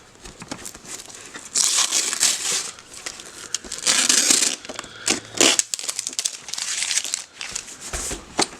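Tape and a plastic seal are peeled and torn off figurine packaging, giving loud crinkling and crackling bursts in several uneven waves, close to the mic, with no talking.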